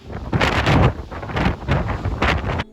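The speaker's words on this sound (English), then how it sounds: "the crazy winds we were having that day" Heavy wind in the Columbia River Gorge, Oregon, buffets the microphone in loud, rumbling gusts that surge and ease over a few seconds, with no voices.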